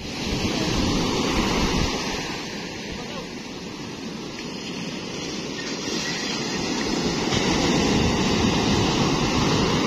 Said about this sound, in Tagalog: sa sobrang laki ng alon